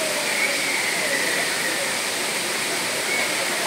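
Kutralam Main Falls waterfall in Tamil Nadu, a loud, unbroken roar of falling water that stays constant throughout and fills the whole clip.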